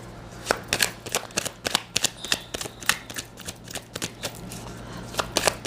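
Tarot cards are shuffled and drawn in a quick, close run of crisp riffling flutters and slaps, repeating rhythmically with no talking.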